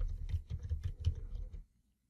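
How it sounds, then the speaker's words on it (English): Rapid keystrokes on a computer keyboard, a quick close run of clicks and taps for about a second and a half before falling silent. "We're going to begin typing in names."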